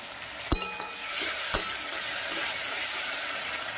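Potatoes frying in a pan with cumin, ginger paste and turmeric, a steady broad sizzle with two sharp clinks of a utensil against the pan early on, close and moderately loud, no talking.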